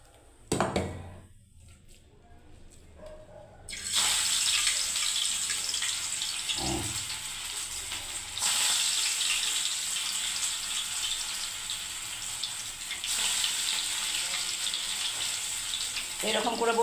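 Bread pakoras drop into hot oil and fry with a loud, steady hiss and bubbling that starts abruptly and keeps going, surging again as more pieces go in.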